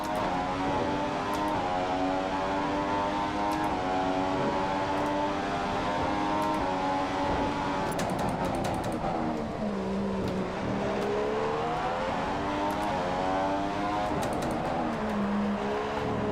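Ferrari Formula 1 car in the F1 2015 game at Singapore, its engine droning steadily throughout with pitch rising and falling as it slows down, close and loud with no talk.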